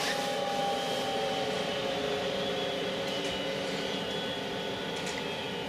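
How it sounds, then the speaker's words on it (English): A steady mechanical whir of fans and electrical hum from a solar, wind and water-wheel power system's inverter fills the space, continuous and fairly loud, with no clear change in pitch. "There you can hear the fans and the inverter slowing down."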